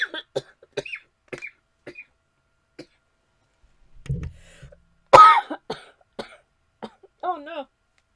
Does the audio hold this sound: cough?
yes